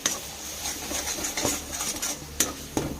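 Green banana peel mash with spices is stirred in a pan, giving quiet scraping and a few sharp utensil clicks against metal, faint and close.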